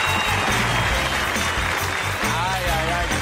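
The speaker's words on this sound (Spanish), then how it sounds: "¡Un aplauso para ti!" A comedy-show audience breaks into loud, sustained applause, a thick wash of clapping filling the whole moment, with faint background voices underneath.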